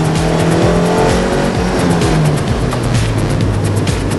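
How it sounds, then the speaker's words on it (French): A Lotus Elise S engine roars loudly from inside the car and climbs in pitch as it accelerates hard, with rising harmonic sweeps and no voices. "Et là, je prends doucement l'accélérateur."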